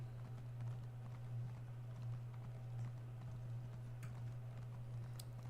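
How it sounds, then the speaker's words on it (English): A horse gallops in the Elder Scrolls Online video game in Vvardenfell, with faint, evenly spaced hoofbeats thudding steadily and quietly on their own. "is there like an unlimited amount of sprinting you can do on a horse?"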